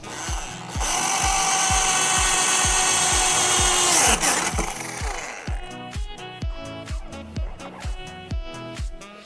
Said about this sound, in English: We'll drill a hole right here.